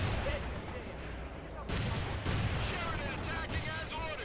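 Mortar and artillery fire in the World in Conflict video game booms in a dense battle din, with heavier blasts at about two and two and a half seconds and voices under the gunfire.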